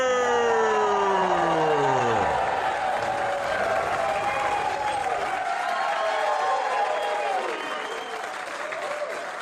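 Comedy club crowd cheering and applauding for a stand-up host, loud and sustained throughout, with swooping pitched tones gliding down early on over the dense roar of clapping.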